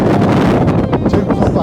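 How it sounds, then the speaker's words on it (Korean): Strong wind gusting across the microphone on a mountain trail, a loud continuous roar with rushing bursts, and a person talking over it. "바람 엄청 불어"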